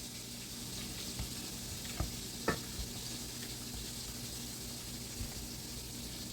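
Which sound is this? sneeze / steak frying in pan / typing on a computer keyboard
steak frying in pan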